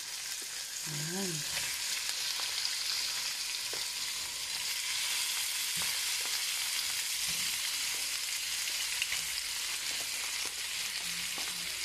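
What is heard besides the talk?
pork frying in a pan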